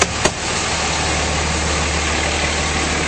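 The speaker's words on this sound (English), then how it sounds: "nice clean engine bay, running very smoothly" A 2006 Dodge Ram 2500 pickup with a 5.9L diesel engine idles steadily and smoothly with the hood open, a close, even low rumble after a brief knock at the start.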